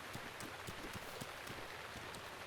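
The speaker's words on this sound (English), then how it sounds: "And it's always raining over here." Steady rain falls in the video game The Legend of Zelda: Breath of the Wild, a constant wash of patter with small scattered drip-like clicks, close and even throughout, with no talking.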